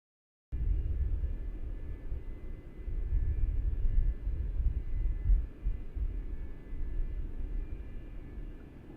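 Simulated engines of an Airbus A330-203 airliner in Microsoft Flight Simulator 2020 hum in a steady, low, rumbling drone that starts abruptly and holds a constant level throughout, with no voices.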